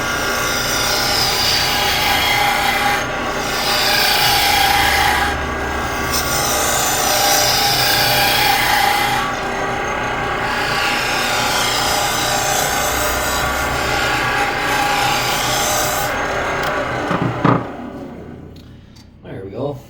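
A black walnut salt shaker bottom is cut concave on a wood lathe, a continuous scraping hiss of the tool on spinning wood with brief pauses, ending as the lathe winds down; someone talks over it.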